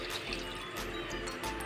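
Water pours steadily into a cooking pot while desi ghee pulao is being made, a continuous close splashing fill with no talk over it.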